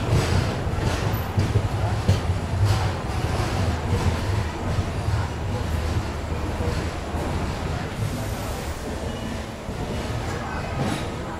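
The Haripriya Express passenger train from Kolhapur runs along with a steady, loud rumbling roar of wheels and carriages, heard from on board, continuous throughout without pause.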